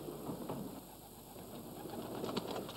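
Racing pigeons coo softly at a breeding stud housing more than a thousand birds, a faint, low murmur with no voices.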